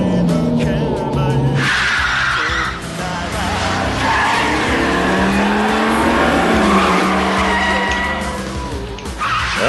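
A racing car skids hard during a racing heat action in the Yakuza 5 video game, its tires squealing loudly and steadily over the engine roar, with bright scraping tones that rise and fall across the whole stretch, no talking.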